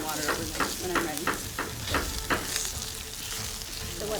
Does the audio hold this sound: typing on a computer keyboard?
no